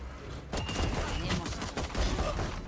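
A rapid volley of gunshots from the competitive shooter game Valorant crackles steadily, close and fairly loud, with a voice faintly underneath.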